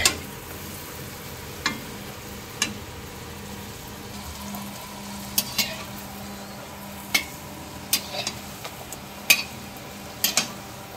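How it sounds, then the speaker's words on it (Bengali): Sliced pointed gourd (potol) frying in a pan, a faint steady sizzle broken by occasional sharp clicks and stirring taps. "আর এইদিকে পটল ভাজা শুরু হয়ে গেছে"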